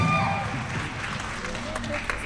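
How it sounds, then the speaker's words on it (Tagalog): An audience claps and cheers at a live comedy show in Rome, a dense, steady wash of applause filling the whole moment without pause. "magpalakpakan tayo"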